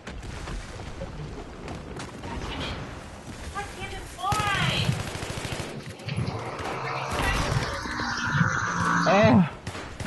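Rapid automatic gunfire and explosions in the video game Battlefield 3, bursts of shooting and booms throughout, growing louder toward the end, with a player talking over the combat.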